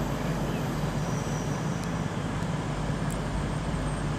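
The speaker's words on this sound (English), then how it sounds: "I think 39117 is about to head off now as well with the 1843 Avanti West Coast service to London Euston" An Avanti West Coast train, unit 39117, pulls away from Nuneaton station with a steady low rumble and broadband rolling noise, moderately loud and continuous, with faint higher squeals now and then.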